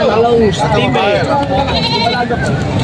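Female goats being sold at a livestock gathering bleat repeatedly in wavering, nasal cries close by, several calls overlapping with people talking in the background.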